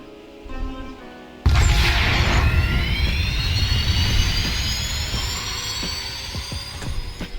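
A car driving on a highway in the video game Ultimate Driving produces a loud, steady engine and road roar that swells in abruptly and holds, with a rising whine, no voices.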